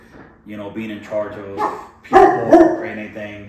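Indoor dog barking in short bursts, loud and close, over a person talking, with the sharpest barks near the middle of the clip.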